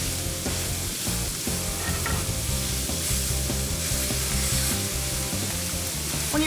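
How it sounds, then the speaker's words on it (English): Ground beef hits a hot skillet and sizzles loudly, a dense continuous crackle of frying with stirring clatter, close and steady with no talk. "And now it's time to add the beef to the skillet."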